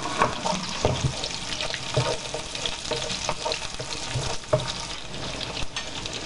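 Chopped garlic and potato frying in a pan for gachas manchegas, a steady close sizzle with scattered stirring clinks and scrapes, no voices.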